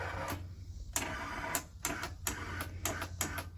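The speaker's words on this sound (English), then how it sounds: "the starter sounds weak." The weak starter motor of a 1982 Honda GL1100 Goldwing motorcycle cranks in a quick, uneven series of labored chugging pulses, close and alone, repeating for a few seconds.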